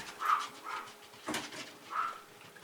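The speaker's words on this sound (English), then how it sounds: "the dogs are going crazy." Dogs barking and whimpering in the Harry Potter and the Chamber of Secrets video game on Nintendo GameCube, a few short, moderately distant yelps spaced across the moment over faint game ambience.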